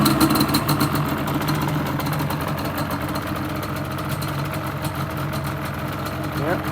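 2006 Yamaha Banshee engine running at idle after starting, a steady buzzing two-stroke drone with rapid pulsing, close and continuous, with a person speaking over it.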